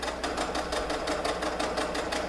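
A sewing machine stitches fabric ruffles for a peasant dress, running at a steady pace with a fast, even, rhythmic chatter of the needle, close and continuous.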